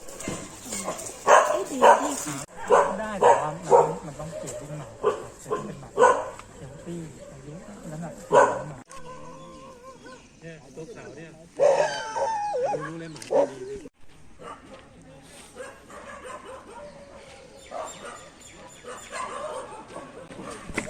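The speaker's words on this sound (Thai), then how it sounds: "เป็นหมาตัวผู้ทั้งหมด" Many male dogs bark, whine and howl at a municipal animal shelter in Phitsanulok, a loud, overlapping chorus of repeated barks that rises and falls, with people talking over and between them.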